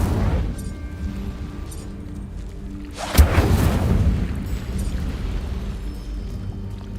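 An Incendio fire spell cast in Hogwarts Legacy bursts out as a sudden whooshing boom a little past the midpoint, then trails into a rushing roar over a steady game background.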